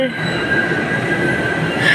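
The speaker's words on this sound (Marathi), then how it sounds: "आणि लगेच मेट्रो आली" A Pune Metro train arriving rumbles steadily nearby with a thin high squeal of wheels running throughout, rising slightly near the end.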